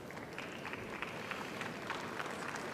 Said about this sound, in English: You see the appreciation from the audience there, clapping that.